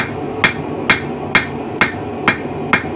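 A hammer strikes a hot forged arrowhead socket on an anvil, flattening and widening it: six sharp, ringing metallic blows at an even, steady rhythm, close and loud.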